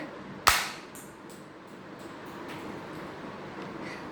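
A cap gun fires once with a single sharp, loud crack. The crack fades quickly into steady, faint outdoor background noise.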